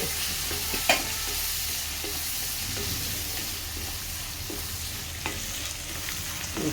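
Onions fry in a pan with a steady, close sizzle and occasional stirring clicks. The dish is an upma made with puffed rice.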